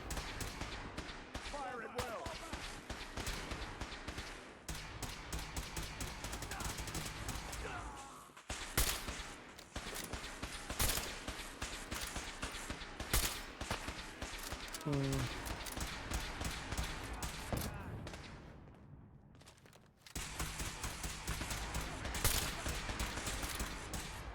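Battle in the video game Fallout 4, with dense, loud, rapid gunfire in sustained volleys and heavy blasts from rockets, someone talking over the continuous shooting.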